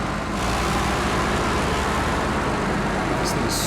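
A loud truck engine in the SnowRunner video game, a dense, steady roaring drone close up, with a short softer gap at the start.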